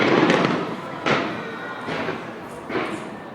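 New Year's Eve 2015 fireworks explode overhead in a steady barrage, with several heavy booming bursts spaced about a second apart over a dense crackling, rumbling background.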